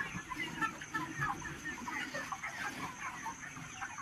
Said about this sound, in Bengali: তো মুরগি খাবার দেওয়া হচ্ছে